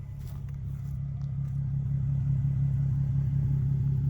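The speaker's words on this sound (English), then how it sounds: "it's my Axleback exhaust. It's a nameless 5-inch muffler, and it does get plenty loud when you get on it" Nissan 370Z fitted with an axle-back exhaust and a 5-inch muffler, giving a steady, deep low rumble close by that swells slightly louder partway through, as at idle or light revving.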